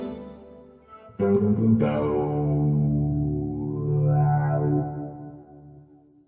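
Distorted electric guitar through an Electro-Harmonix Iron Lung effects pedal, a thick, gritty sustained tone with a bending pitch that swells and fades.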